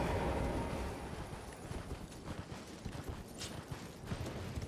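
A horse in the Elden Ring: Shadow of the Erdtree game trots along, its hooves making a quick, steady run of soft clops under a hissing background bed of game ambience.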